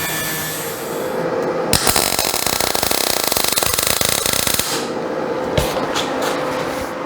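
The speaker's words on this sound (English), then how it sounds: "So I'm just going to grind that out and re-weld it." Angle grinder working on a steel fuel tank, grinding out a pinhole in a weld: a loud, dense grind of about three seconds that cuts in abruptly and then stops, with workshop clatter and handling noise before and after.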